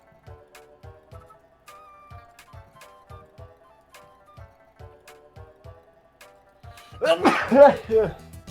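A single loud, explosive sneeze bursts out near the end, following a light rhythmic polka beat of bass thumps and plucked notes that plays on throughout.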